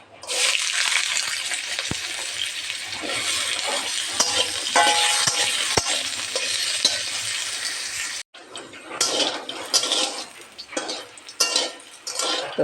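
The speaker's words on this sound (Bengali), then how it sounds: "এখন কোয়াশটা ভেজে নেব।" Squash pieces fry in hot oil in a kadai, giving a loud, steady sizzle with stirring scrapes and occasional utensil clinks, which briefly break off and then resume more unevenly.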